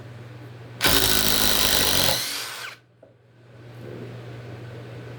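A Ridgid 3-speed brushless impact driver whirs loudly at full speed for about two seconds, then winds down. A steady low hum sits in the background throughout.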